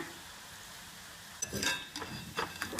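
Spicy mixture dough pressed into hot oil and frying on medium-low heat, a quiet hiss that bursts into louder bubbling crackle partway through, with irregular swells as the batter spreads and cooks.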